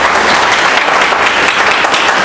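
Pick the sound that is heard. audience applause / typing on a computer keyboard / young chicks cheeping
audience applause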